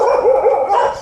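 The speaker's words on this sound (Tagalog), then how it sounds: "Kagulo yung mga aso." Dogs bark in a quick, close run of loud, overlapping barks and yips at a rainy campsite during a bike camping trip in Indang, with no talk over them.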